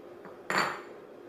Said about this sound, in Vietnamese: bây giờ mình bắt cái chảo lên tiếp